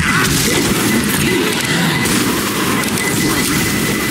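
Pipe bomb explosion in the zombie shooter Left 4 Dead, a dense continuous roar of blasting and crashing debris that stays loud and steady throughout with no talk.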